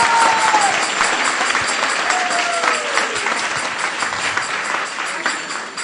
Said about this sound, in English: I would like to give a big round of applause to all the children who participated in the recitation contest